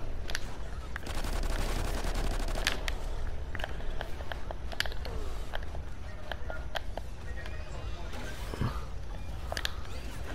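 Pistol gunfire in Call of Duty Ghosts Extinction: sharp, irregular shots spread across about ten seconds over a steady rumbling game background, some alongside other weapons fire and footsteps.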